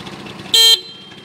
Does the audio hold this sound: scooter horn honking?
yes